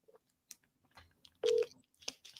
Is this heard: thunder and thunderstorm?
no